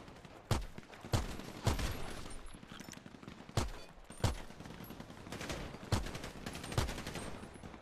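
Pistol shots ring out in a GTA-style PvP video game, about nine sharp cracks fired in irregular bursts at moderate volume over faint background game noise.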